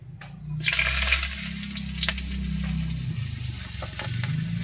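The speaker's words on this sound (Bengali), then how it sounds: "এবার এর মধ্যে দেব চেরা কাঁচা লঙ্কা, হাফ চামচ মতো লঙ্কার গুঁড়া, 1 চামচ জিরার গুঁড়া" Slit green chillies, chilli powder, cumin and turmeric hit hot oil for a vegetarian papaya dish. After a brief quiet start, a sudden loud sizzle bursts up and keeps hissing steadily, with soft stirring scrapes underneath.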